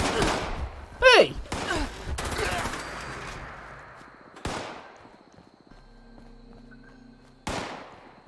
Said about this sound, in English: Still shooting at me.